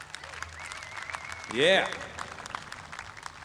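An audience at the outdoor Americana In The Park show at the Tamworth Country Music Festival 2018 applauds a singer. The clapping swells into a short, loud burst and then fades, with a voice calling out briefly.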